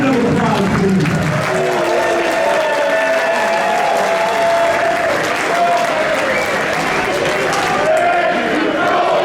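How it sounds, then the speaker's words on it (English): A crowd at an indie wrestling event bursts into loud, sustained applause and cheering that fills the hall, with shouts and whoops rising over the steady clapping throughout. "Give yourselves a good round of applause, please."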